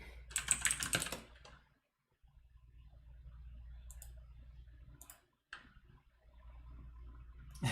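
Rapid clicky keystrokes on a mechanical keyboard, a fast burst at first, then quieter scattered taps and a few sharper clacks against a low hum.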